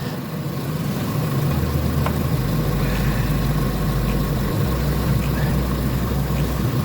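A Renault Megane engine idles after a timing belt and water pump replacement, a steady close low mechanical chug with a faint rhythmic ticking that runs evenly throughout.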